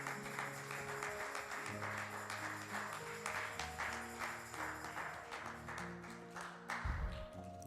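A church congregation clapping and cheering as a preacher comes forward, with a light patter of hands running under sustained music and keyboard tones.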